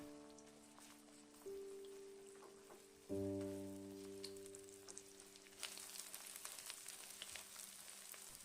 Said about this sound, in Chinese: 油热之后放入鸡蛋火腿丁，用铲子快速的搅散